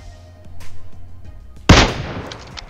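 Single loud, sharp gunshot from a Mini 14 rifle in PUBG Mobile on the Miramar map, cracking out close after a quieter stretch and leaving a short ringing tail.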